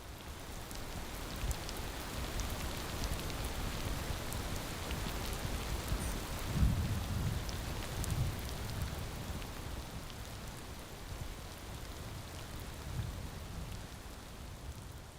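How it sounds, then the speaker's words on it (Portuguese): Steady rain falls across the Serengeti plains in East Africa, a continuous soft hiss of drops. Low, muffled rumbles of distant thunder swell briefly midway and again later, with no voices. "a chuva desce dos céus de Moro"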